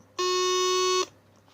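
A single sustained electronic tone from a homemade capacitor-and-loudspeaker piano, a steady buzzy note with strong harmonics held for about a second, then cut off cleanly.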